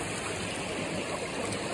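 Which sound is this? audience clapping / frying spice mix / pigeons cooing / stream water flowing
stream water flowing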